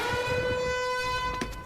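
A steady alarm siren holds a single harmonic-rich tone, loud and unbroken, over low rumbling background noise, with a brief knock near the end.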